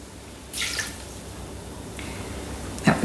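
About 80 grams of water poured into a Thermomix bowl in a kitchen, with a brief splashing pour, a second short stream, then a louder final splash and drips.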